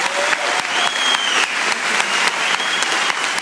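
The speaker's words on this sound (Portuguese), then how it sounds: "Vamos aplaudir a vitória na vida do seu pai." A congregation at a Catholic Mass in Lorena, Brazil, claps steadily together, sustained rhythmic applause filling the church, with a faint voice or tone lingering behind.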